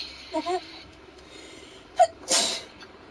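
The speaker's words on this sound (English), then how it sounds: "Oh, there's another sneeze." A sharp sneeze bursts out near the end after a brief inhaled gasp, preceded by a few soft vocal sounds.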